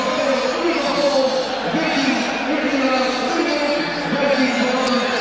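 A fanatical Dutch football crowd fills the stadium before a 1994 World Cup qualifier against England, a loud, steady roar of chanting and chatter with a commentator talking over it.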